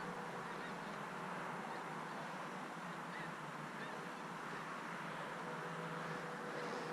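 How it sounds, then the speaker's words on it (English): A large mixed flock of birds, big black ones and white ones with black-tipped wings, flies north while calling, their honking cries blending into a continuous, dense outdoor chorus. "There's actually two different kinds of birds. Big black ones, and white ones with black tip wings."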